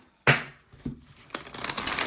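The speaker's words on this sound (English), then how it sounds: "I'm just gonna shuffle the deck real quick." A deck of tarot cards is shuffled: a sharp riffle burst, a softer flick, then a steady rising run of papery card-riffling, near and clear with no talk.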